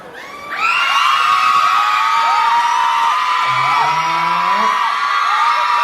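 A crowd at an event screams and cheers loudly, high shrieks and whoops swelling suddenly and staying intense, with overlapping voices throughout.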